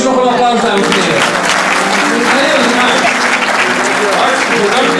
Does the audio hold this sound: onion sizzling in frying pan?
no